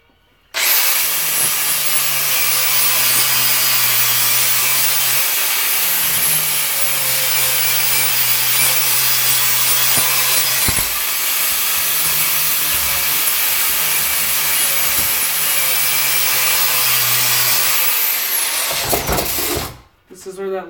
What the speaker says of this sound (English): I'm going to grind this down a little bit